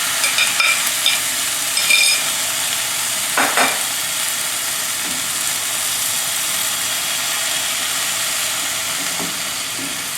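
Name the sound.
beaten eggs sizzling in a frying pan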